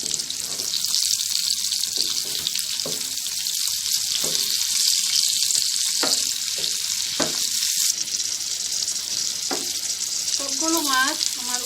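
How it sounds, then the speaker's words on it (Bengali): Giant freshwater prawns fry in a pan over low heat with a continuous loud sizzle, broken by a series of spatula clacks and scrapes as each one is turned over. "এখন আমি সবগুলো মাছ উল্টিয়ে দিব।"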